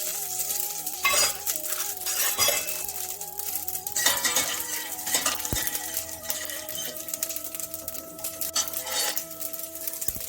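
Cumin and fenugreek seeds sizzle in hot gingerly oil in a pot after mustard seeds have spluttered, a steady crackling fry with occasional clinks of a spoon against the pan, fairly close.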